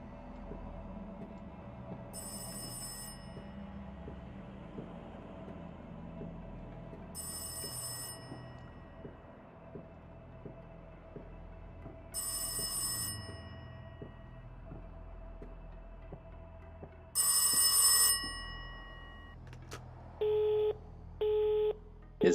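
A telephone bell rings in the VR horror game Rise of Insanity, four evenly spaced bursts of ringing over a low, droning ambience, followed by a few short, higher busy-signal tones near the end.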